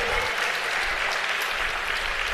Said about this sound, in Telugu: చప్పట్లు గట్టిగా కొడదాం.